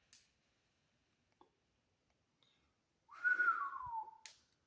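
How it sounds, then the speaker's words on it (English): A single short whistled note that slides downward, faint and close, preceded by a few soft clicks in near silence. "Damn, I couldn't even do the whistle right."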